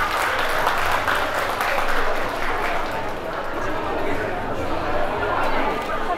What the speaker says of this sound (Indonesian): Rasa kasih tepuk tangan buat Kak Sandi.